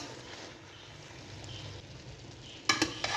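Cabbage and chicken are stirred in a pot with soft, faint shuffling, then a few louder clanks of a spoon against metal come near the end.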